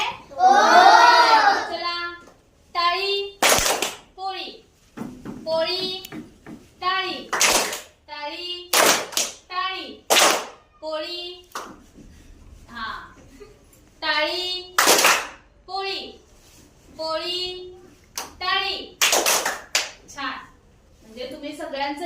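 Children clap their hands in a classroom clap game: sharp, separate claps and short bursts of claps come between a teacher's spoken prompts and the children's answers.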